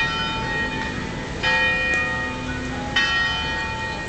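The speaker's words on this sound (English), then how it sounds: "Maybe these are different bells than the last time" Church bells ring out in Williamsburg on a Saturday night, struck about every second and a half with sustained, overlapping tones; the peals sound steady and moderately distant with no talking.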